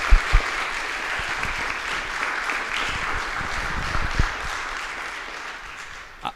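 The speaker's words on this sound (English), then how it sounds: "Can we give them a round of applause?" Steady audience applause for a girls wrestling team at a school board meeting, continuous clapping from a roomful of people lasting several seconds.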